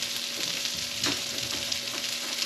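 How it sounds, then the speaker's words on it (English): Onions cook in butter in a pan over medium-low heat, a close, steady sizzle with scraping sounds as a spoon stirs them, no voices. "I want to cook my onions for a few minutes. I'm gonna use a spoon."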